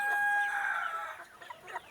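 A chicken clucks and calls in short bursts, fairly close and clear, with a few softer clucks trailing off afterward.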